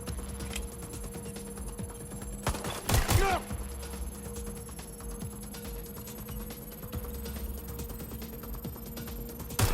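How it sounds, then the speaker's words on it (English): Gunfire in the video game Watch Dogs: Legion, with scattered shots and a louder burst near the middle over a steady game soundtrack hum. "Incoming fire! Shit! Taking fire!"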